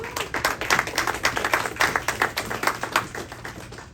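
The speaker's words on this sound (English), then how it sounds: "So please give a warm welcome to Sarah" A conference audience at an AI business talk applauds a speaker's introduction, a dense and steady run of many hands clapping in a room, with no voices over it.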